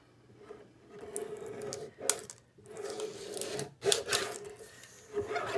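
A sheet of vellum being trimmed down for a planner dashboard, with soft scraping and rasping cuts in short bursts and a few sharper strokes, close and fairly quiet.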